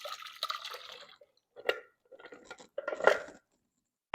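Thick puree is poured into a saucepan, making a few wet plops and drips in short bursts with quiet gaps between them, close by.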